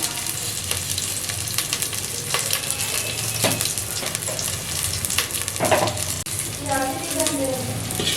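Mustard seeds and curry leaves crackle and sizzle in hot oil for a jackfruit seed and tamarind bud huli, a dense steady frying hiss with scattered pops and brief stirring scrapes near the end.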